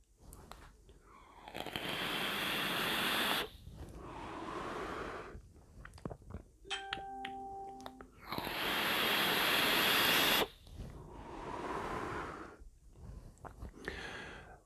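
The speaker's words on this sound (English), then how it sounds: "I'm just going to fire it up to. We'll put it up to 70 watts to start with." A QP Kali V2 RDA clone with 0.16-ohm coils fires at 70 watts in two long, loud bursts of hissing, crackling vapor. Soft breathy draws and a few short electronic tones come between the bursts.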